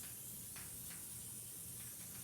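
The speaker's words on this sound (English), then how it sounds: "I'm just going to spray this and just really cover this with the spray adhesive." A steady, continuous hiss of spray adhesive from an aerosol can, close and even throughout, with no talking.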